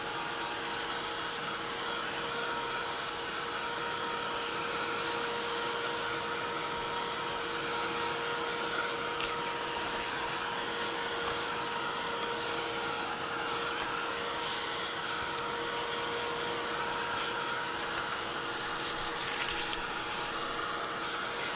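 A heat tool dries iridescent medium on a card, blowing with a steady, even roar of hot air that continues unbroken at close range for the whole stretch.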